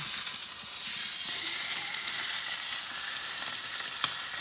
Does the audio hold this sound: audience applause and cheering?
no